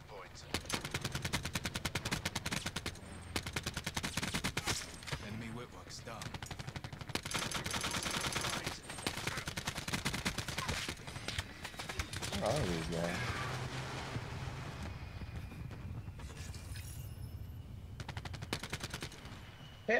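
Rapid gunfire bursts and machine-gun rattles from a first-person shooter video game in a Hardpoint match crackle in dense clusters across the clip, mixed with game effects and faint talk.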